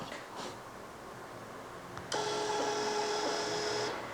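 A Blueprint Eco 58D thermal receipt printer, linked by Bluetooth to a cashier app, prints a transaction receipt with a steady, high electronic whir that starts suddenly and runs for nearly two seconds over quiet room tone.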